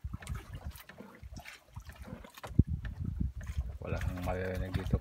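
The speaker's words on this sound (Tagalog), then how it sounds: "wala kang maririnig dito kundi yung hampas ng alon sa mga palangoy ng bangka namin." Waves slap against the outriggers of a small boat tied to a buoy on the Pacific Ocean, a steady wet sloshing and knocking close by, with wind and someone speaking over much of it.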